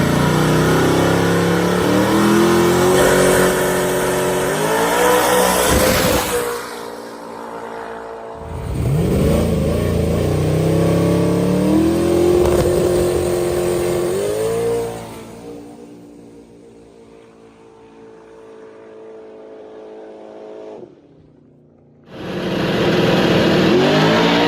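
Ryan Martin's drag car, fitted with a MotorFab rear suspension kit, makes testing passes: loud engine revving and climbing through gears in repeated runs, cutting off between passes, one quieter stretch, then a final roaring launch.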